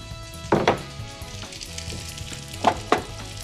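Spring onions frying in a pan over moderate heat while a chef cooks a spicy Tripoli-style fish, with several sharp sizzling bursts rising and fading over a quiet kitchen background.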